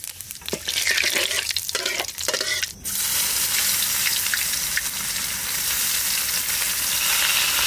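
Whole cumin and bay leaves hit hot oil in a village kitchen, a few sharp clatters giving way to a loud, continuous sizzle that stays strong to the end.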